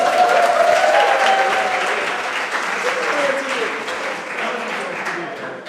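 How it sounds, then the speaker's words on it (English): Wedding reception guests clap as the microphone passes to the maid of honour, steady broadband applause that is loud at first and tapers slightly, with voices murmuring and a few calls through the crowd. "Big round of applause."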